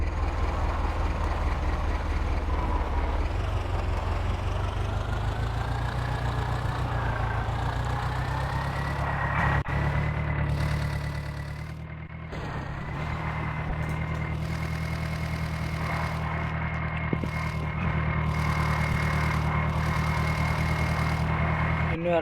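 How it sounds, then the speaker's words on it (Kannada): Tractor engine from a tractor driving video game hauling a full load, a steady loud low drone that rises and dips slightly in pitch as it runs continuously. "ಯಾವ ರೀತಿ ಹೋಗ್ತಾ ಇದೆ ಟ್ರ್ಯಾಕ್ಟರು."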